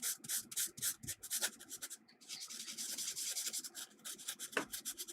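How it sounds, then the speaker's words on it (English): A sanding pad is rubbed gently across a circuit board in quick, rhythmic back-and-forth scrapes, close up and clear, with a few brief pauses between strokes and no talking. "you can just get your sanding pad, and I'm going to try and just gently sand"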